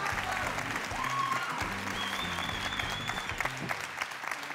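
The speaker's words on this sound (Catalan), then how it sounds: "Aplaudiment per ella, també." Applause from a theatre audience at a Catalan comedy gala final at the Teatre Bartrina, sustained clapping from a large crowd lasting the whole stretch, with a voice speaking over it at moments.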